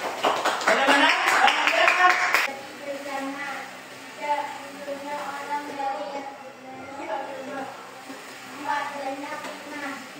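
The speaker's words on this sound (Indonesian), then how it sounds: "Iya, tepuk tangan semuanya." Students in a classroom clap loudly together after a group presentation, a dense burst of applause lasting a couple of seconds before fading into a teacher's voice and soft classroom murmur.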